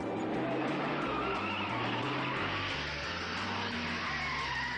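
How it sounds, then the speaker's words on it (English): A Ford Falcon GTHO race car accelerating hard at Bathurst down Conrod Straight, a loud continuous engine roar climbing through stepped gear changes, close and alone. "Moffat accelerates the GTHO to something around 140 miles per hour down Conrod"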